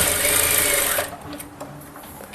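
A sewing machine stitches piping onto a sleeve in a close, loud continuous whir for about a second, then stops, leaving soft handling clicks and rustles of fabric.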